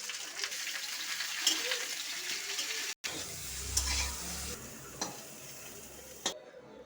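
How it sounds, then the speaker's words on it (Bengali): Cauliflower sizzles and crackles in hot oil in a pan, with occasional stirring clicks and scrapes. "কপিটা ভাজা ভাজা করে নেবো একটু লাল লাল করে।"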